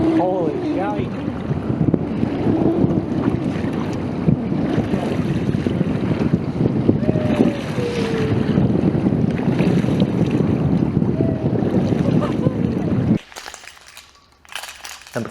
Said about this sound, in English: I hate the wind. Casting in the wind sucks.